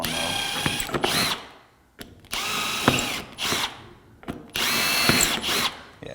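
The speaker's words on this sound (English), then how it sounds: "I'm just drilling them all out just to be safe." A power drill bores holes into a home wall during a home theater renovation, running in three long bursts with short pauses between them, loud and close, with no talk.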